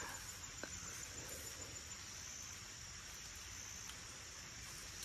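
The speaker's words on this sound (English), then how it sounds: "All right, so the rain's starting to pick up a little bit." Steady rain falling outdoors at night, a continuous, even hiss of drops with no distinct thunderclaps, moderately loud and unbroken throughout.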